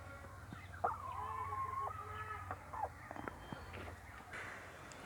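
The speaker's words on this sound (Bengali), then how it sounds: "এই যে দেখছেন আমার মুরগিগুলো" Chickens cluck and murmur close by, a drawn-out hen call followed by short clucks over a low outdoor hum.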